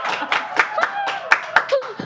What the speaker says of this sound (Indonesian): Nek arep tepuk tangan ya santai wae lho